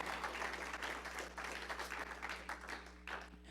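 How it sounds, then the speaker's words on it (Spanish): A church congregation claps at a Wednesday discipleship service, steady applause from many hands over a low electrical hum, somewhat distant and faint. "vamos a darle un aplauso al Señor"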